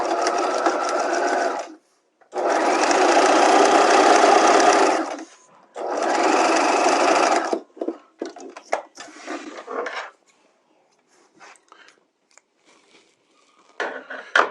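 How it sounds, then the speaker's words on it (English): A sewing machine stitches the shoulder seams of a garment with a neckline facing at a half-inch allowance, running loud and close in three long bursts with short pauses for back tacking, followed by lighter handling clatter and a final brief run. "we're going to stitch those at a 1/2 inch and back tack at the beginning and end."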